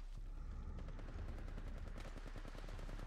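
Rapid automatic gunfire in the mobile game Apex Legends Mobile, with dense repeated shots rattling continuously at moderate loudness and no talking.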